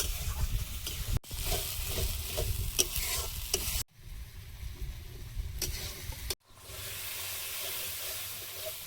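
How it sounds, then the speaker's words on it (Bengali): Ground spice paste frying in oil in a wok (kadai) while being stirred, producing a steady close sizzle and hiss with scraping strokes and a few abrupt cuts. "বাটা মশলার জলটা মরে তেল ছাড়বে"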